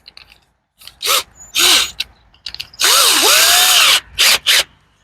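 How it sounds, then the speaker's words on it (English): Power drill whirring in several short bursts with pauses between, then one long sustained run, loud and close, with a rising and falling motor pitch. "this we'll put in our drill, and we'll drill some holes"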